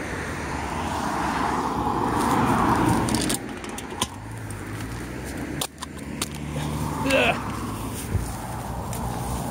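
A car drives past on a road near Skeoch Roundabout in Stirling, a broad swelling whoosh that peaks and fades, followed by lighter traffic and footsteps while someone talks over it outdoors.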